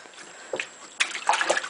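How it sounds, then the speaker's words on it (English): A baby splashing water in a bathtub: a couple of small slaps, then a burst of busier sloshing and splattering, close and moderately loud, with no talking. "You want to show her how you splash?"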